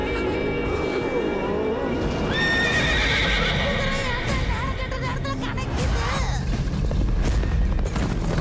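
A horse whinnies loudly several times, with hooves clip-clopping and a busy noisy scene underneath, close and prominent.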